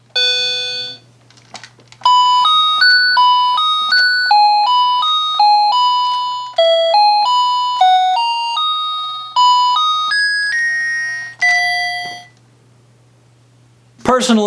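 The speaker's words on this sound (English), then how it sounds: "And then we have the mandolin." Mandolin preset on an electronic keyboard playing a quick melody of bright, tinny plucked notes, loud and close, with a low steady hum underneath and a short pause before a final burst at the end.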